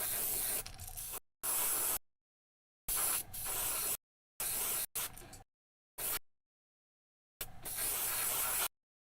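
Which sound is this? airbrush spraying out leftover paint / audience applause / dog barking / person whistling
airbrush spraying out leftover paint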